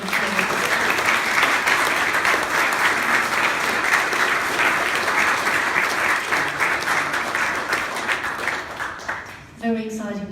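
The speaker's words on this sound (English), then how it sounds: "We'll give you a round of applause." A round of applause for a panellist at a citizens' arms control meeting, sustained dense clapping for about nine seconds that thins out near the end before a voice begins speaking.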